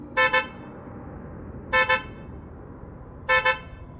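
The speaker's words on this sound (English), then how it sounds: "I heard the sound of my car alarm." Three evenly spaced double honks blare out, a car alarm's horn chirping in a regular rhythm with quiet gaps between each pair.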